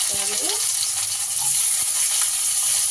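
Onions dropped into hot oil with cumin seeds for tempering, a steady close crackling sizzle that runs through the whole stretch, with a few faint clinks and a brief tonal voice-like sound near the start.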